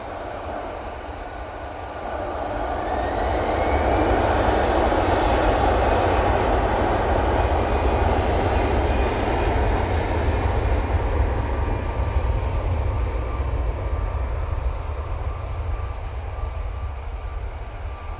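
An Emirates airliner arriving at Manchester Airport gives a loud, steady broadband jet roar that swells after the first two seconds and holds strong to the end, with no talking.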